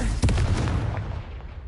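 A Confringo blasting spell in Hogwarts Legacy goes off as one sharp, heavy explosive boom that rolls away quickly into a fading rumble.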